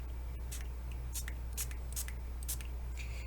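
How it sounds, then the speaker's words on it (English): A spray bottle misting a tile artwork drawn in Sharpie gives about half a dozen short, soft spritzes at an uneven pace, with no one speaking. "I'm going to go ahead and spray this."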